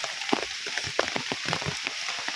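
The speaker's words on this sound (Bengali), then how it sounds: "ওই যে দেখেন এখন আবার যে বৃষ্টি পড়তেছে।" Heavy rain patters and hisses in a continuous spread of close drops, a steady wash with small irregular splashes and no voices.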